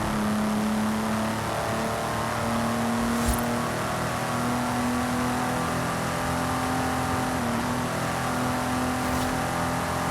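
Porsche 911 Carrera engine in a racing video game, a steady sustained drone that holds one pitch with a slight shift partway through, moderately loud and continuous with no talk.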